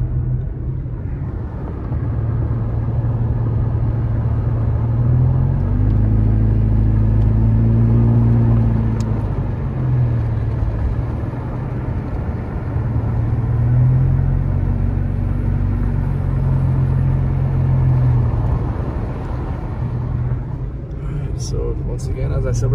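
A car drives through the mountain town of Fawnskin near Big Bear Lake, California, with a steady low engine and road rumble rising and easing slightly as it cruises, and people talk over it at times.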